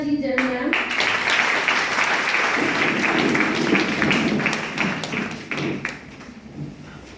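An audience breaks into sustained applause, a dense crackle of many hands clapping at an event, holding steady for several seconds before thinning out and fading.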